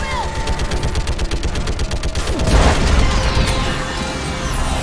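Rapid automatic gunfire in the video game Mass Effect 3, a loud dense stream of close shots with a heavier boom midway and game effects, a voice talking over it.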